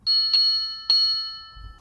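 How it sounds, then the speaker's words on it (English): The electronic bell of an Urtopia Carbon 1 ST e-bike dings twice in quick succession, each tone ringing on clearly and close by in an otherwise quiet space. "Short press on the center button for the bike's bell."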